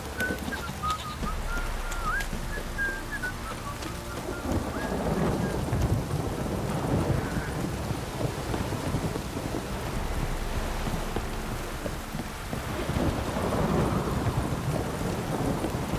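Steady heavy rain with rumbling thunder throughout in the video game The Witcher 3: Wild Hunt, a bird calling early on, no voices.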